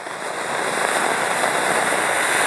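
A Sita ki Dhaga Diwali firework burns with a steady, loud hissing crackle that builds in the first moment and holds evenly, with no voices over it.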